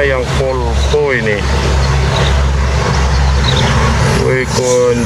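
A Volvo intercity bus runs along a road between Medan and Pekanbaru, its engine a steady, close rumble, while someone talks loudly over it.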